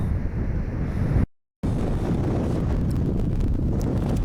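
Strong wind buffets the microphone on an ocean beach, a steady loud roar with surf mixed in, broken by a brief dropout of silence before the gusting resumes.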